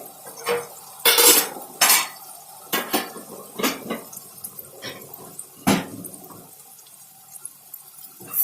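A spoon stirs mango chicken curry in a pot, giving loud close clanks and scrapes against the metal in an irregular rhythm, with some watery sloshing between strokes and no voices.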